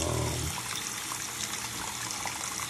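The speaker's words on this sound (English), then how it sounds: "I just simply rinse everything off" Hot tap water runs steadily over jewelry being rinsed in a bathroom sink, a constant close hiss of flowing water with no voices.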